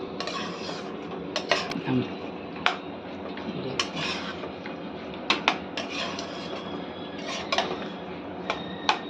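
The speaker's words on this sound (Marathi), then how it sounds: "थोडं थोडं मिक्स करत राहा हलवत राहा" A spoon scrapes and clinks against a pan while carrot halwa is stirred, giving irregular light taps and scrapes over a low cooking rumble, close and fairly quiet.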